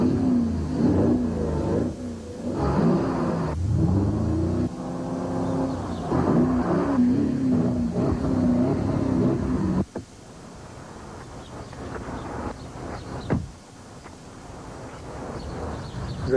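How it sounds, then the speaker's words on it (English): A 450-horsepower Porsche Cayenne Turbo engine revs in a loud, rising roar with a clear pitch for about ten seconds, then drops away to a quieter background. "The 450 horsepower Porsche Cayenne Turbo."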